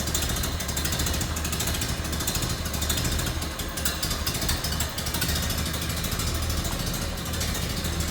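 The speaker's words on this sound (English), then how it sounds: "I do have that idle down quite a bit, but you can see running smooth." A 1930 Ford Model A Tudor sedan's engine, rebuilt and running smooth, idles low and steady throughout with an even, continuous rumble and faint ticking, close by and without any talk.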